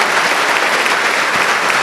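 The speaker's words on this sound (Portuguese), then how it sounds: "vamos aplaudir, é bonito, hein?" Church congregation applauding during Mass, a loud, close, even burst of many hands clapping together.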